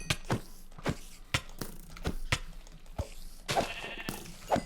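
Sheep in Minecraft bleat in repeated sharp cries, about eight in under five seconds, clear and close over a quiet background.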